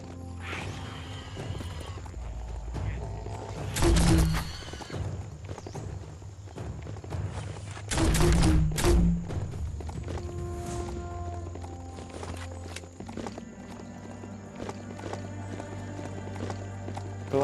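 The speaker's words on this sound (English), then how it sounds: "The silent but robotic horse." Robotic horse footsteps in the video game Biomutant: two short bursts of clopping steps over steady ambient game music and hum, fairly faint and separated by quiet stretches.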